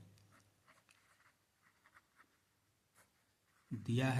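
A pen quietly scratches out the answer to a class 9 gravitation physics problem in faint, close strokes with short pauses, then a sudden loud noise cuts in at the end.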